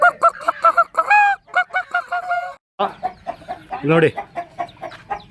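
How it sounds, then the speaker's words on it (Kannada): Chickens and chicks at a crowded village fair, with honking and clucking fowl calls rising repeatedly through the scene while people talk nearby. "ತುಂಬಾ ಕೋಳಿಗಳಿದಾವೆ ಗೈಸ್,"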